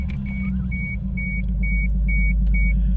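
A big-turbo Toyota Supra 7MGTE engine idles with a deep, steady low rumble right after firing up, while a regular electronic beep chimes repeatedly over it.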